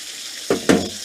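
Skin-on salmon frying in an overheated pan gives two quick bursts of loud sizzling over a steady background hiss.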